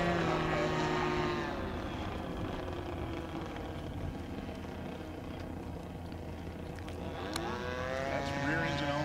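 RC Cessna Skymaster 337 twin model plane flying on its rear engine only, a continuous buzzing propeller drone that holds steady and shifts slightly in pitch, heard from the ground with a faint breeze.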